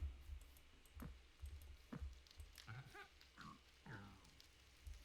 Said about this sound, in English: Oh, pigs make a different noise now.